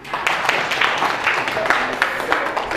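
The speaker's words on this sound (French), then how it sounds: "applaudissez-le" Schoolchildren in a classroom clap for a classmate: a burst of dense, close, lively applause that stays steady for a few seconds with a loose, uneven rhythm of many small hands.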